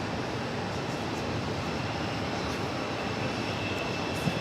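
A JetBlue Airbus A320 in special livery arriving on runway 4 Left at New York JFK, a steady, moderately loud engine rumble and rush with a few faint clicks, and no voices.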